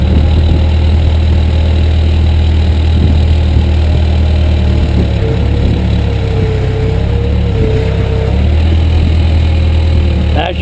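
A heavy excavator engine revs under throttle while its bucket drags a large rock through dirt, a loud steady diesel drone with low rumble and a faint rising whine, no talk.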